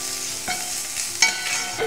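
Salt, garam masala and chili powder sizzle and crackle in a hot pan, a steady frying hiss with a few sharp pops and a stirring clatter.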